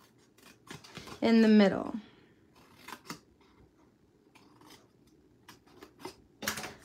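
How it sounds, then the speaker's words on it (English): Scissors cut through paper along scored lines with a sharp crisp snip and a quick ripping slice, followed by lighter clicks and rustles of paper being handled, while someone speaks briefly between the cuts. "grab your scissors, and you're gonna cut these lines"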